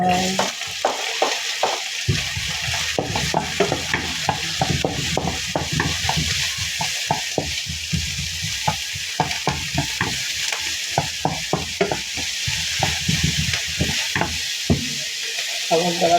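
Shrimp stirred and sautéed with mung beans in a pan, a steady sizzle of frying broken by frequent scraping stirs of a utensil throughout, close and continuous.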